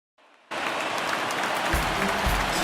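A virtual stadium crowd in the baseball video game MLB The Show 19 rises into steady loud cheering and applause during a full-count pitch, sustained to the end.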